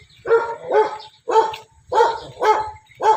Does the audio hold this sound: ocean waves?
no